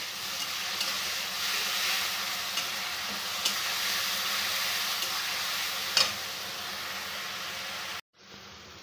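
Onion, ginger, garlic and green chilli paste frying and being stirred in a pan for chicken chow mein, a steady close sizzle with occasional scraping clicks, ending abruptly.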